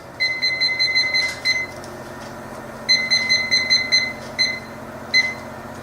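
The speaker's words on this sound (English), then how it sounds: "Set your timer for 8 minutes." Kitchen timer being set for 8 minutes while baguettes bake in the oven, giving bursts of rapid high electronic beeps in short trains separated by brief pauses, close and clear.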